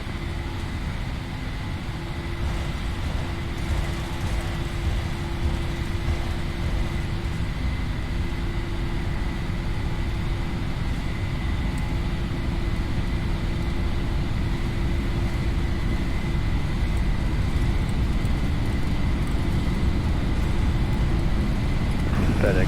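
A PMDG Boeing 737 rolls down the runway for takeoff in the P3D flight simulator, a steady broadband engine roar with a constant tone that holds evenly at moderate loudness throughout, with no voices.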